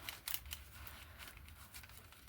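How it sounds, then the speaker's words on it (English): Scissors trim a little off one side of a craft piece, giving a cluster of quick, close snips early on, then a few softer scattered cuts over a low background hum. The cutting is faint overall, and no one speaks. "I'm going to cut a little off of this side."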